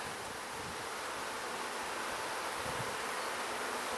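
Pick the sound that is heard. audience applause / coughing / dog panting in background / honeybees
honeybees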